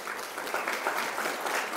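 Audience applauding the Cardinal at an honorary doctorate ceremony, a dense, even burst of clapping from a sizable crowd lasting about two seconds, without talk.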